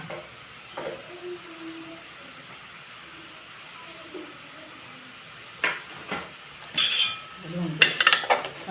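Grated coconut is stirred into kozhuppa thoran in a pan, heard as a soft low background with sporadic spoon scrapes and clinks against the metal pan, growing busier and louder toward the end.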